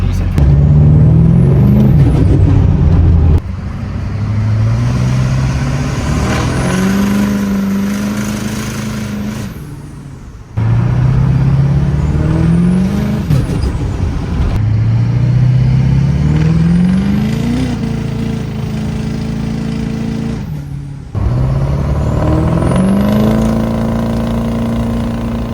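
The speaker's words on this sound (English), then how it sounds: "This is the absolute loudest truck I've ever drove" Loud Chevrolet LB7 Duramax diesel pickup driving, its engine note climbing through repeated gear pulls with brief drops between shifts, turbo whistle riding high above, close and steady throughout.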